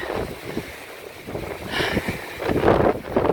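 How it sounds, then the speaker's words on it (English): Wind rushes and buffets the microphone in rising gusts on the Pacific Crest Trail, swelling louder toward the end with no voices present. "Gust of wind."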